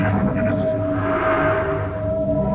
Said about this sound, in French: ça c'est le son d'un pouvoir mental.